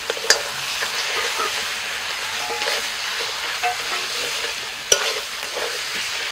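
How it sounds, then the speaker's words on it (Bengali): Fried fish heads are stirred into spice masala in a pan. A steady sizzle runs throughout, close and continuous, with scraping strokes and a couple of sharp utensil clinks against the metal. "মশলার সাথে মাছের মাথাটাকে কষিয়ে নিয়েছি"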